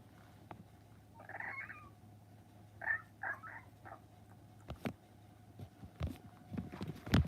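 A cat gives several short meows in quiet surroundings, first a single call and then a quick cluster of brief cries, with a few soft thumps and rustles toward the end.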